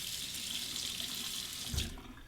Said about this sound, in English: Warm it up under the hot water